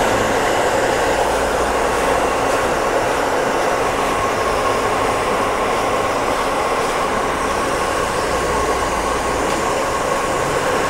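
A hair dryer blows steadily while hair is dried at a barber shop, giving a loud, constant airy roar that runs unbroken from start to finish.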